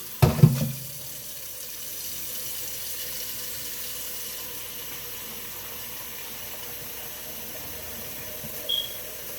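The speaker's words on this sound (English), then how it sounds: "So I'm going to put my water in here for the chicken soup." Tap water pours steadily into a cooking pot for homemade chicken soup, a continuous soft rush that follows a brief clunk at the start and runs alone without talk.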